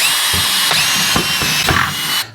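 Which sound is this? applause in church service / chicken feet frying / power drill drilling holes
power drill drilling holes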